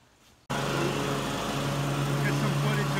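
A Ferris lawn mower runs steadily at close range after a brief quiet start, its engine holding a constant loud drone as it mows.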